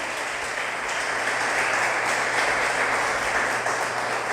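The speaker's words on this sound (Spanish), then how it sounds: "Dese ese fuerte aplauso por su vida" Congregation applauding during a Spanish-language church service, dense sustained clapping that fills the whole stretch evenly and loudly with no break.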